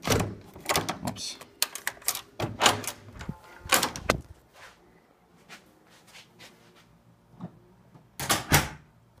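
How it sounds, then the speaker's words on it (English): A hotel room door at a SpringHill Suites by Marriott in Williamsburg, Virginia, gives a series of sharp clicks and thuds as it swings shut and latches, close and loud, followed by a few fainter handling knocks. "And there goes the door."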